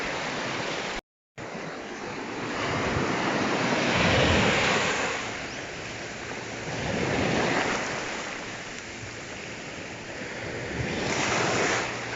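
Ocean waves washing onto a shore on a morning beach walk, a continuous roaring surf with slow swells rising and falling, heavy wind buffeting the microphone, no voices.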